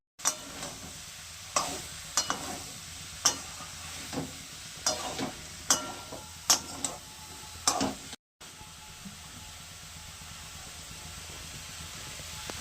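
Boiled vegetables with capsicum and peas stirred in a frying pan, with a steady soft sizzle under repeated scraping strokes of a spatula, close up and without talk, then a brief cut before the sizzle continues.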